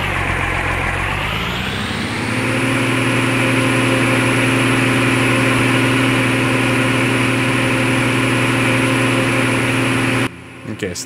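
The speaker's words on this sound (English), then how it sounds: "Cabin will be quiet so you guys can hear the engine." A Claas Xerion 3000 tractor engine in the Farming Simulator video game starts up, then runs at a steady, loud, even idle heard from inside a quiet cabin, with no talk over it, before cutting off abruptly near the end.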